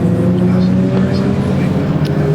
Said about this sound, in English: lighting up the spray being kicked up by Rod Birley's Ford Escort WRC